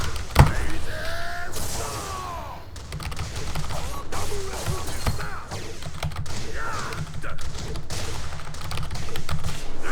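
Computer keyboard keys pressed rapidly while playing the fighting game Tekken 7, with dense irregular clicks and clatter running throughout, alongside game effects and a short loud hit near the start.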